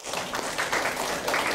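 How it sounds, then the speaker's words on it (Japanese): Applause from a group at a civic meeting and workshop, moderately loud and continuous with scattered individual claps, briefly welcoming a participant. "拍手、パチパチ"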